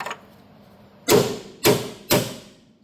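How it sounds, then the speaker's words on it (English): Three loud hammer blows land about half a second apart, each a heavy metallic thud, while work is being done on a Ford Falcon drift car being prepared for a drift event. "It's because I'm choking the hammer,"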